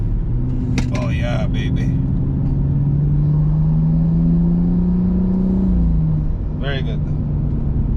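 A car engine drones steadily from inside the cabin during hard cornering, holding a low rumble that rises slightly in pitch before easing off, while someone speaks briefly over it.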